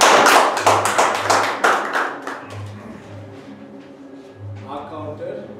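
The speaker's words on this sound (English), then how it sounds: "Please give a round of applause." Members at a Toastmasters club meeting clap briskly and loudly, the burst of applause thinning out after a couple of seconds as a speaker's voice takes over.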